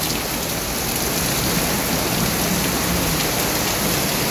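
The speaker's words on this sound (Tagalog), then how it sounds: "Talagang itinodo yung ilang araw na hindi tumutuloy ang ulan, ay itinodo na po ngayon." Heavy, steady rain pours down on garden plants during a downpour, a dense continuous hiss of drops striking leaves, loud and close with no break for the whole stretch.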